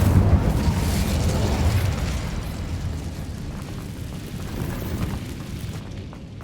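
An Incendio fire spell blast in the Hogwarts Legacy video game, a loud low rumbling fiery roar that swells at the start and slowly fades over several seconds, heard alone.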